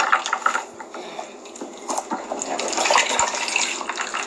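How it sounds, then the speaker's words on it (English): Juice is poured into a cup nearby, a soft continuous liquid splash and trickle with faint clinks and handling noises, no talking. "You can pour your juice when you're ready."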